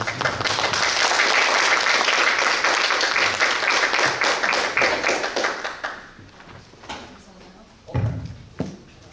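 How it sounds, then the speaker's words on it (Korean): Audience applause greets a tourism department head invited forward at a Suncheon city briefing on village-stay hosts, dense clapping for about six seconds before thinning into scattered claps and light room noise. "큰 박수로 맞이하겠습니다"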